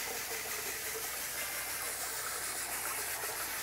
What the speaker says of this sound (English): You want to wash your mungo beans